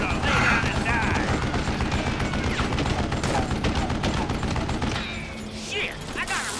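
Rapid gunfire and mechanical clicks from the Call of Juarez: Gunslinger video game, a dense burst of shots running continuously for several seconds before thinning out, with in-game sounds layered underneath.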